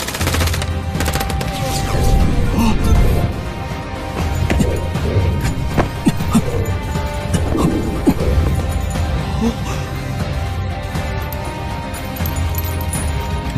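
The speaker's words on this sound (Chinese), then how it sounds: "方逸， 快快开枪" Gunfire in a Chinese animated series jungle showdown, with rapid bursts and scattered loud shots over a dense, clattering action soundtrack.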